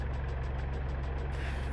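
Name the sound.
OH-58 Kiowa Warrior helicopter engine starting, DCS video game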